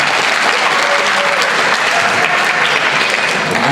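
A live audience at a math-student quiz game claps together to vote on an answer, dense sustained applause from many hands filling the room at even loudness throughout.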